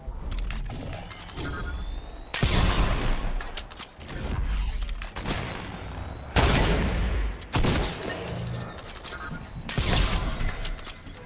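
Video game shotgun firing incendiary shells, loud booming blasts at irregular intervals, each followed by crackling fire and mechanical pump clacks between shots.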